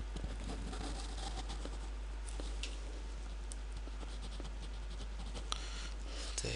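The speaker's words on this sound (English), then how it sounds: "I draw a graph" A pen scratches across paper while a math graph with axes is drawn by hand, giving a faint, close scratching with short strokes and light taps over a low steady hum.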